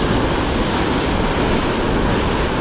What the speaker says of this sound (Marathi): ही बघा लाट केवढी आली. आता ही बेकारच लाट आली.